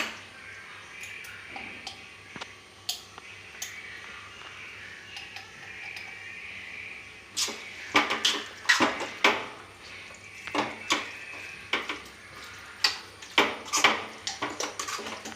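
A spoon stirs salt into homemade mango pickle, giving irregular clicks and scrapes against the container. They start sparse and quiet and grow busier and louder in the second half.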